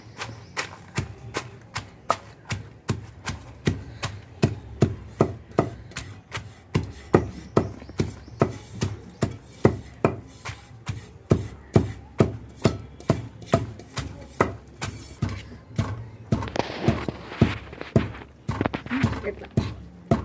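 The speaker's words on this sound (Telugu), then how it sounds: "కారం దంచుతున్నాను" Nalleru chili paste pounded by hand in a stone mortar: steady, close, heavy thuds at roughly two per second that continue without a break, turning slightly wetter and more muffled near the end.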